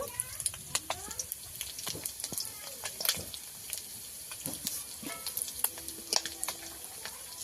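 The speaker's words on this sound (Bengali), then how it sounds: "মাছগুলো আমি ভালো করে লাল লাল করে ভেজে নিয়েছি" Bata fish fry in a pan with a low, crackling sizzle full of scattered pops and clinks, close but fairly quiet, while a person talks over it.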